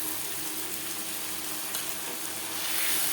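Ginger and green chili paste stirred into onion and tomato frying in a pan for Bhangor fish curry, a continuous close sizzle with soft scraping from the stirring.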